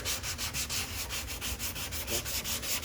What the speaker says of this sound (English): it's important that I get all of those 80 grit scratches sanded to where they're all 180 grit scratches